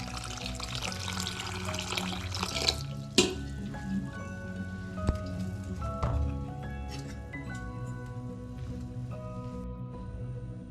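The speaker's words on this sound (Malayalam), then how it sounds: "ഇനി ഇതിലേക്ക് തണുത്ത വെള്ളം ഒഴിച്ച് കഴുകി കൊടുക്കാം." Cold water is poured over cooked rice ada to rinse it: a steady, close splashing rush for about three seconds, then quieter clinks and handling noises.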